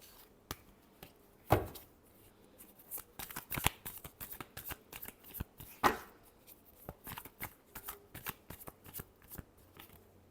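Tarot cards shuffled close by, with soft riffling and irregular slaps and taps of the deck running throughout, fairly quiet.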